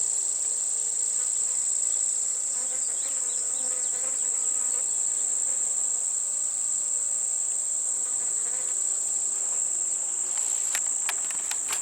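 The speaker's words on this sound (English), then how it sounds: "the bees are getting in there and starting to pollinate everything" Continuous insect buzzing outdoors among sunflowers in a food forest, a steady high whine with softer bee-like drones drifting in and out nearby.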